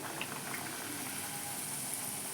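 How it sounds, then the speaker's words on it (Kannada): Wheat-flour puris frying in hot oil, with a steady loud sizzle and bubbling that continues without a break. "ನೋಡಿರಿ ಎಣ್ಣೆ ಬಿಸಿ ಮಾಡಕ್ಕೆ ಇಟ್ಟೀನಿ ರೀ ನಾನು. ಒಂದೊಂದಾಗಿ ಬಿಡ್ತೀನಿ ನೋಡಿರಿ ಎಣ್ಣೆ ಒಳಗೆ."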